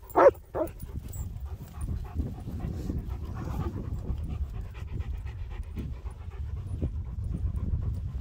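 A dog pants and sniffs steadily while hunting for moles outdoors, with a couple of short yelps at the start and continuous close breathing after.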